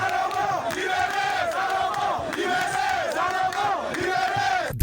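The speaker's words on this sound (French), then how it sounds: "Et la foule a grondé." A large, angry crowd at a political gathering in Kindu for the Ensemble pour la République party roars and chants in loud, rhythmic waves that run unbroken throughout.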